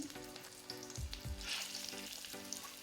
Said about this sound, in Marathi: तेल गरम झाल्यानंतर मी याच्यामध्ये ठेवते कारली